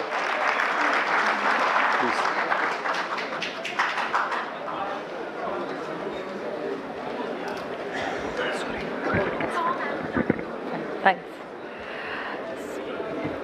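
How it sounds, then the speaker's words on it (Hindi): Audience applause welcoming a speaker to a training session hall, a sustained crowd of clapping hands that is loudest at the start and gradually thins out, with a few scattered claps continuing near the end. "एक बार तालियों के साथ उनका स्वागत करेंगे सभी लोग।"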